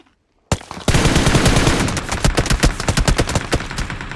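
Rapid bursts of automatic gunfire from a shooting video game, loud and dense after a brief silent start, with single shots and rattling volleys overlapping continuously.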